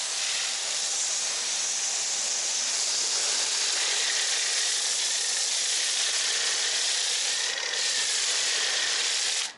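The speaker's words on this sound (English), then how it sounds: "I'm actually hearing a lot of sputtering that I wasn't hearing with the other orifice." A continuous hissing spray of water from a foam cannon runs nonstop, loud and close, with a slightly rough, sputtering texture.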